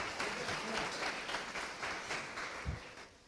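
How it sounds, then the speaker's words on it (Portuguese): A church congregation applauds the boys, with dense, steady clapping filling the whole stretch at moderate, even loudness and a faint murmur of voices underneath. "Dá uma salva de palmas pelos meninos aí"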